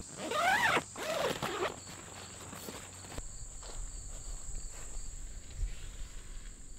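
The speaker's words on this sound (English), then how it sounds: "You have two-way zippers, so this can be unzipped any way that you wish." A two-way zipper on a Nemo Coda 1.5 SE tunnel tent is pulled in two quick, close rasping strokes, followed by quieter rustling and faint scraping against a steady high hum.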